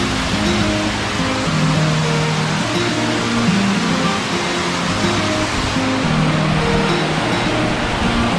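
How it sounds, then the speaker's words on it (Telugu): Katika waterfall in Araku roars as a loud, continuous rush of falling water, close and unbroken, with a faint low engine-like tone underneath. "ఈ కటికా వాటర్ ఫాల్స్ చూడండి, 2 కళ్ళు సరిపోలేదు నిజంగా."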